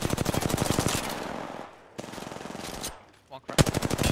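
Rapid automatic rifle fire from an R-301 in an Apex Legends ranked match, loud bursts of close shots with short pauses between them and a brief lull in the middle.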